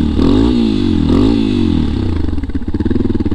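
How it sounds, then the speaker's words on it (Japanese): A Yamaha Tricker motorcycle engine, just fitted with a new spark plug, is blipped twice from idle in quick loud revs, then settles back to a close, steady, even putter. "と空ぶかししてみますと"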